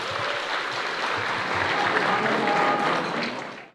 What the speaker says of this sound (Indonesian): Tepuk tangan buat Metro TV.